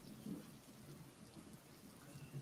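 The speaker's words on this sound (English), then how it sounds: "I'm gonna take this rain off of here." Steady rain with low thunder rumble forms a faint, continuous storm bed laid under a scripture reading, with no voices heard over it.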